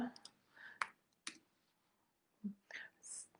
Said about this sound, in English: I'm just moving over and clicking this button.